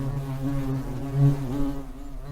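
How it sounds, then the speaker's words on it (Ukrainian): A hornet buzzes alone and close by, holding a steady insect drone with one brief rise in loudness midway. "шершень"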